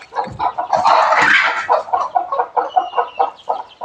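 A chicken clucks close by in a rapid, regular series of short calls, with a louder squawking burst near the start, alone without talk.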